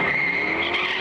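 A race car at a drag racing track roars with a loud, steady engine and tire screech, filling the whole moment without any pause or voices.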